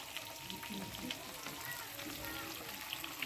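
Rohu fish frying in hot oil on a wood-fired clay stove in a village kitchen, a steady close sizzle and crackle with scattered pops throughout.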